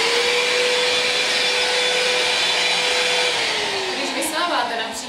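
An LG Cord Zero cordless vacuum cleaner runs nearby with a steady, loud motor whine and airflow hiss, holding one pitch before it drops slightly near the end. A few faint speech sounds slip in.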